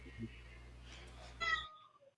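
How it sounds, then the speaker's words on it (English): A faint cat meow comes near the end, after the background hum of a live open mic night cuts out, with a voice speaking softly before it. "Did I just hear a cat?"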